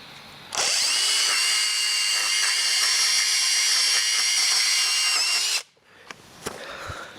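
A loud, steady high-pitched chainsaw whine runs for about five seconds while cutting, then cuts off abruptly, followed by some clattering handling noises.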